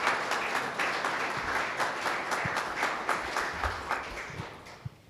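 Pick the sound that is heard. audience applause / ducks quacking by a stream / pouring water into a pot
audience applause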